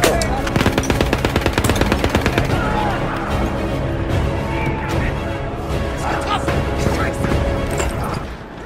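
Rapid automatic gunfire from a World War I shooter game, Battlefield 1, rattles in a fast burst of sharp repeated shots, then gives way to scattered cracks and booms under dense battle noise.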